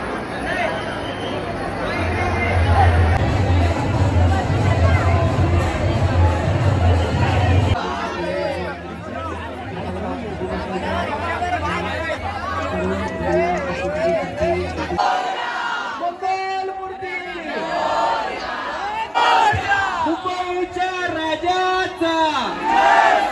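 A large festival crowd gathered in Ganesh Galli for the Mumbaicha Raja Ganesh idol first look, a dense, continuous roar of chatter and cheering shouts swelling close around, with voices talking over it.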